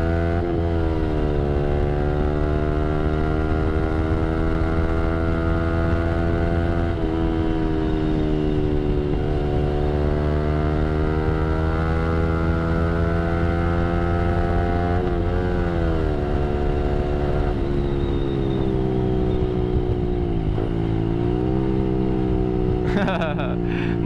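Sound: Yamaha R15 V3 motorcycle accelerating hard with VVA on

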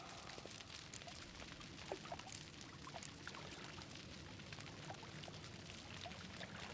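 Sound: water being drained from a tank

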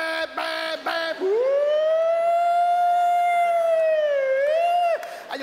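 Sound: voice imitating an ambulance siren

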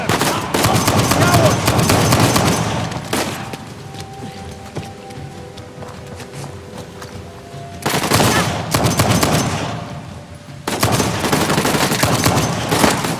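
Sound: gunfire in Uncharted: The Lost Legacy video game

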